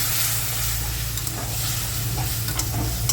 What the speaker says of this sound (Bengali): আর এখানে রান্না করছি পনিরটা, পেঁপে দিয়ে আলু দিয়ে পটল দিয়ে পনির